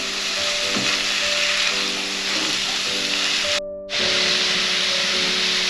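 Green garlic sizzles and crackles in a hot pan as a utensil stirs and scrapes through it, a steady frying hiss with occasional clanks.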